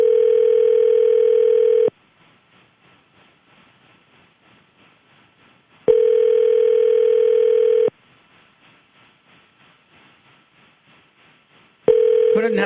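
Telephone call ringing out on a radio show, a steady electronic ring tone repeating three times with roughly four-second gaps, loud and clear over faint background noise.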